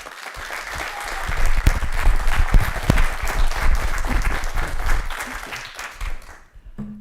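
A live audience at a Black History Month event applauds to welcome a singer, with loud, steady, sustained clapping from a sizable crowd that swells and then fades out near the end.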